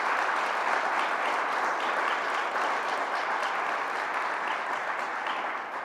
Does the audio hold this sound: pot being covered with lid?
no